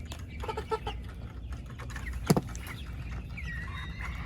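Backyard chickens cluck softly and intermittently near a garden, a few short calls with one sharper squawk in the middle over a low steady background.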